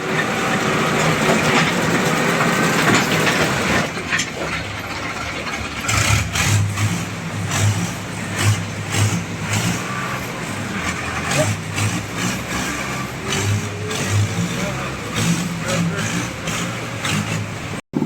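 A tractor engine runs steadily nearby at a mid pitch, idling with slight surges and rumbling, with no talking over it.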